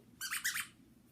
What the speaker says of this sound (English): They included a squeaky toy.